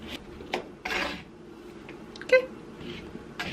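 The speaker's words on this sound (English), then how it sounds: "now I'm just chopping these up into pieces that'll fit into my little Ninja Bullet" Peeled raw white sweet potatoes being chopped into chunks on a cutting board: a few scattered knife strikes and scraping rasps, close and fairly quiet, with brief pauses between cuts.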